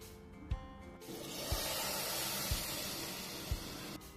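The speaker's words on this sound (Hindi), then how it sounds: "तो अब सांभर में हम लगाते हैं तड़का।" Hot tadka tempering poured into sambar, a loud continuous sizzle and hiss that bursts in suddenly and holds, with a few sharp knocks of a utensil at regular intervals.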